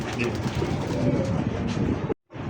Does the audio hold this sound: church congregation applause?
no